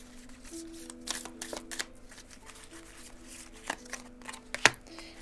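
Oracle cards for a love reading are shuffled by hand, a series of soft riffling bursts and light taps, close and quiet, with no talking.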